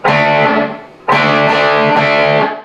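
Distorted electric guitar plays a riff, fretted at 7 on the 5th string then 7 on the 4th and 3rd, with two loud sustained phrases separated by a brief dip.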